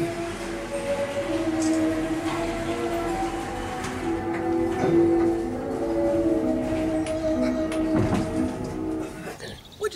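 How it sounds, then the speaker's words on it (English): A solar-powered tram rumbles along on a tour of the Torres Winery in Spain, with steady humming tones and rattling, some faint background chatter and birds mixed in, ending with a short clunk. "we loaded onto a solar-powered tram to take a tour around the property"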